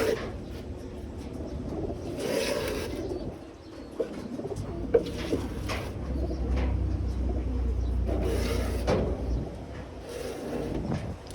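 Breeder pigeons in a racing pigeon loft give soft, repeated cooing calls over a low, steady background rumble, with a few brief louder bursts of noise from nearby.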